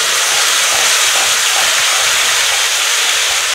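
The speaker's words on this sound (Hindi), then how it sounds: "हल्का भूरा हो जाने के बाद इसमें हम पिसा हुआ टमाटर डाल देंगे।" Ground tomato goes into a hot pan of browned ingredients for Hyderabadi chicken dum biryani, giving a loud, continuous, close hiss of sizzling that holds steady throughout and then cuts off abruptly.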